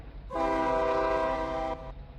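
A single loud, sustained horn blast from an ES44AC diesel locomotive in the Roblox RO-Scale Sandbox game, holding steady for about a second and a half before cutting off, over a faint rumble.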